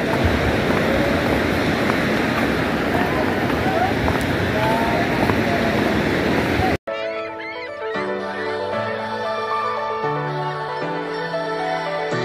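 Sea waves wash onto a beach at Shrivardhan on the Konkan coast as a loud, continuous roar and rush for about seven seconds, then the sound cuts abruptly to music.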